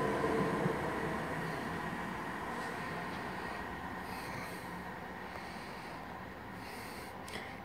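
A class 323 electric train pulls away from Five Ways station, its steady broadband rumble and faint high whine holding evenly throughout without any voices.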